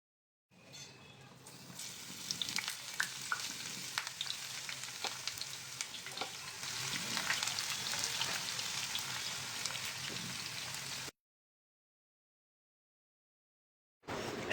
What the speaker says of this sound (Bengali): সুন্দর করে লাল লাল করে পেঁয়াজিগুলোকে ভেজে নেওয়া হচ্ছে